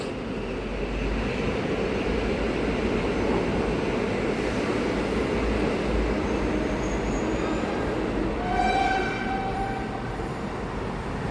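An electric multiple unit train rumbles steadily as it pulls away from Kraków Główny station, a broad continuous roar with rising electric motor whine near the end.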